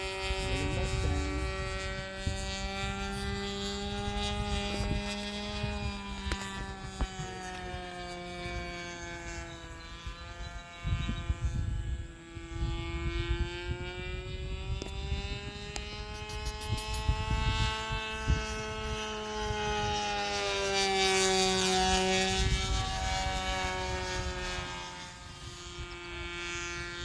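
A small Dynaflight fun-scale P-51 Mustang RC model airplane flies overhead, its electric motor giving a steady whining drone that rises and falls in pitch as it passes, continuous and moderately loud throughout.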